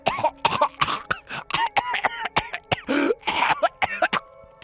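A fit of harsh, repeated coughing, a long irregular run of close, loud hacks with brief throat-clearing rasps between them, no talk.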